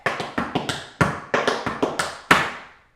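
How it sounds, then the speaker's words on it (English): Tap dance shoes beat out a quick dig, toe, heel riff, about a dozen crisp close taps in an uneven rhythm with no voices over them. "So this is 1, 2, 3, dig, toe, heel."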